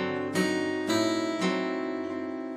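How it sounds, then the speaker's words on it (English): Guitar lick from an arrangement of Arkansas Traveler, three bright plucked notes in quick succession with a ringing sustain, close and clear. "And just the little bit in Arkansas Traveler went like this."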